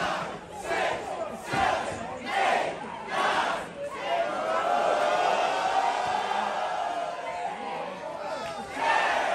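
Wrestling crowd cheering and yelling throughout, a broad roar of many voices with a commentator talking over the first few seconds before the noise carries on alone.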